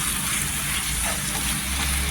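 A papaya and sugar mixture sizzles steadily in a pan while being stirred for papaya barfi, giving a continuous close, even hiss with no voices.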